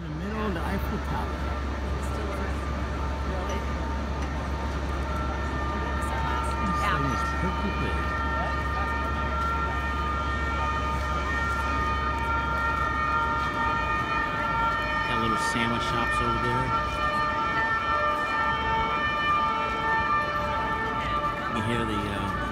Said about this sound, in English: Hear the police car in the background.